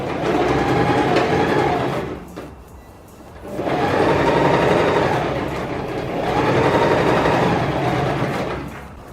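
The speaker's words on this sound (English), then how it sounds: "I'm going to take this to the sewing machine and reinforce the side seams all the way to the bottom" Sewing machine stitching side seams on a puff-sleeve smock skirt, a loud rapid mechanical whir running in two long bursts with a brief pause between.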